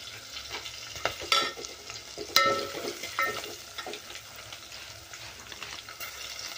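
Masala frying in a pan on low gas flame, a soft steady sizzle with occasional stirring scrapes and a few sharp clinks, close and fairly quiet, no talk.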